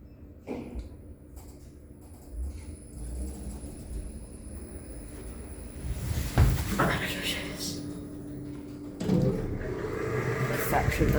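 Lift doors sliding open in Rochdale Riverside Shopping Centre after smooth levelling, a soft rolling whoosh that builds partway through over a steady hum of mall ambience, with a second swell near the end.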